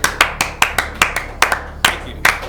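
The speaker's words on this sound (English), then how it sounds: "Is that why you're clapping?" Scattered hand claps from a small group, about a dozen sharp separate claps in an uneven rhythm, fairly close and with no talking.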